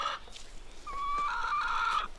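Backyard chickens clucking and calling in cold weather, a short burst then a rising drawn-out cackle, close and clear with no talking.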